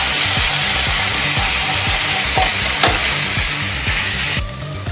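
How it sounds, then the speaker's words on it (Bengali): Masala mixed with well-whisked sour yogurt fries loudly in a pan, a strong continuous sizzle broken by regular scraping stir strokes roughly every third of a second, close up with no talking. "আর এবার দিয়ে দিলাম খুব ভালো করে ফেটানো টক দই। ভালো করে কষিয়ে নেবো মশলাটা আগে।"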